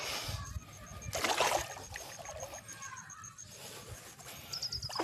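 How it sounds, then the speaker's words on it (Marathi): Floodwater rushes and splashes outdoors after unseasonal rain breaks through a road, in a steady wash, with occasional birds chirping in the background. "बघा पाणी कसं वाहत ते"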